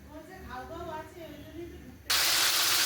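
A voice talks for about two seconds, then meat seasoned with turmeric and salt hits hot oil and a loud, bright frying sizzle bursts in abruptly and holds steady to the end.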